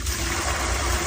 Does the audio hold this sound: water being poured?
yes